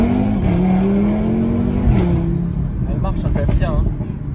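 A new car's engine revving loudly and steadily with a smooth rising and falling pitch, close up, with faint voices underneath.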